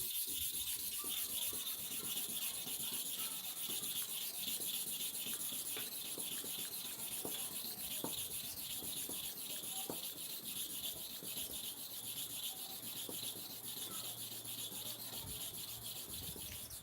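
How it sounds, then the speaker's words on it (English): A Starex barber clipper blade is rubbed back and forth on a sharpening stone, giving a steady, quiet scraping and grinding that continues through the whole stretch with no talk. "Now, I want to start the sharpening on the quash surface. You see where the stone is touching here."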